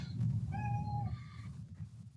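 A single drawn-out cat meow, fairly faint and steady, rising over a low hum of background room noise.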